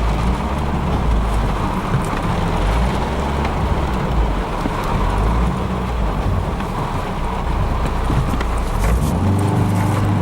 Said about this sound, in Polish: Ale fajnie, fajnie, na dodawanie gazu fajnie reaguje.